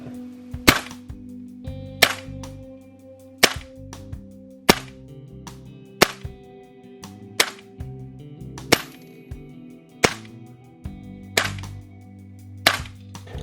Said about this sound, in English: So you've seen how the gun shoots.